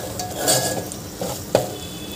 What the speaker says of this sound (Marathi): लो टू मीडियम गॅसवर मसाला भाजून घेतलेला आहे.